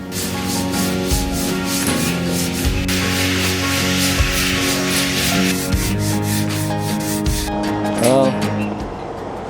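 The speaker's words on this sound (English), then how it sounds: "all I have to do is just sand this thing back to shape" A wooden capping rail on a boat in a shipyard is sanded back to shape with a steady, loud, close abrasive rubbing. A machine drone runs under it, and the pitch and pressure shift a few times.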